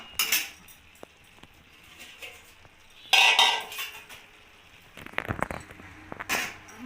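Cabbage curry being stirred in a pan, intermittent metallic scrapes and clinks of a spoon against the pan, separated by quiet pauses, no talking.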